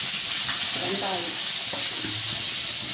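Onions frying in oil give a loud, constant hiss close by, with a voice briefly talking underneath.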